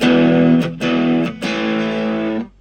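Heavily distorted electric guitar chords through a Cuvave Baby multi-effects unit on heavy overdrive ring out loud and sustained, three strums in a row with brief gaps, ending abruptly.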